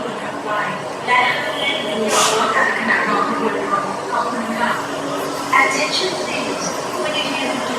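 An elevated skytrain in Thailand rumbles past with a steady roar and faint wheel screech, layered over crowd murmur and nearby chatter.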